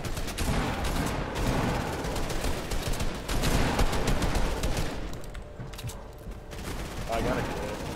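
Fortnite gunfire in a competitive match, with bursts of rapid shots and heavy fusillades crackling near and far in dense, overlapping volleys across the whole stretch.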